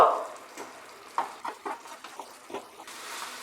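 Fried-modak stuffing cooks in a pan over medium heat while it is stirred, giving soft scraping and stirring strokes over a faint sizzle. There is no talk.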